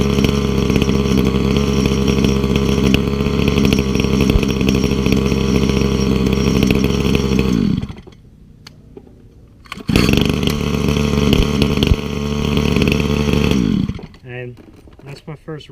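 A Redmax TR2301S string trimmer engine, thought to be running lean, runs loud and close with a steady buzzing drone, cuts out briefly around the eight-second mark, restarts, then drops to a sputtering idle near the end.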